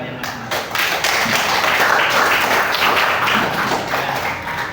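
A classroom of students clapping for themselves, a dense burst of hand claps with thumps and taps nearby, steady and loud throughout, with some voices mixed in.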